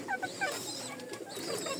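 Pigeons mixed in with small young hens in a coop give soft coos and short clucking calls, close by, several brief chirpy notes spread over a couple of seconds.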